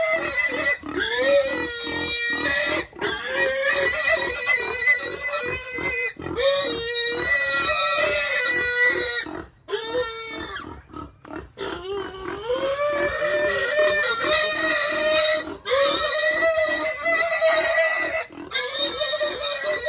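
A pig squeals and oinks loudly and almost nonstop at close range on a countryside farm in Bohol, with long, strained cries broken by short gaps and grunts.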